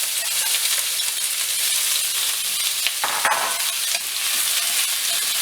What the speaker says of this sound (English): I'm gonna add some vegetables and saute them.